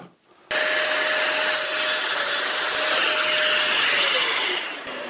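A CNC router plunges and cuts out material across the full width of a gap in a router template, a loud steady grinding whine with broadband cutting noise running alone from start to near the end.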